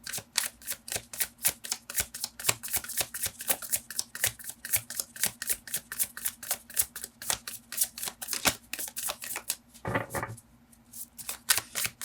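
Oracle cards being shuffled by hand in a steady, fast run of crisp riffling snaps, close and continuous, with a brief pause and a soft thump near the end.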